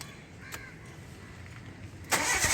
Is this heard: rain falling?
no